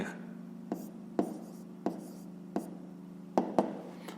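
A pen or pencil writes numbers by hand on paper, giving quiet separate scratches and taps over a steady low hum, with no talk.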